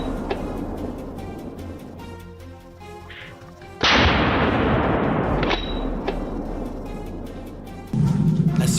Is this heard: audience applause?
no